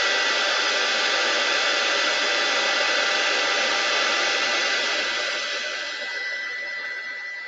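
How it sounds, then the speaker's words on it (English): A heat embossing tool blows hot air at a crafting table with a steady, loud, close whirring hiss that holds constant and eases slightly near the end, with no talking over it. "Okay, I'm embossing."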